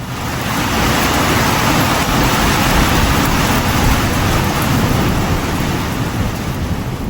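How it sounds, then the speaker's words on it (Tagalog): A loud, continuous low rumble of thunder rolls on in the mountains of Benguet with heavy broadband noise, like a storm washing over everything, with no clear pauses. "yung kulog at kidlat dito, parang nasa cinema. Iba yung tunog niya."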